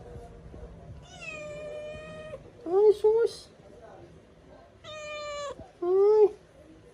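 A black and white cat meows several times, drawn-out and tonal, close by, with someone talking and exclaiming between the calls in a quiet home setting.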